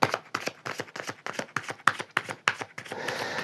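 Tarot cards gathered up and covered on a table, a rapid run of close, crisp card slaps and shuffling clicks, then a softer rustle, no talking.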